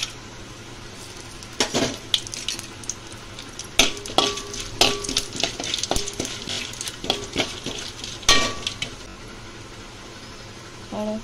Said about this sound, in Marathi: तेलामध्ये आपण फोडणी देऊन घेऊया।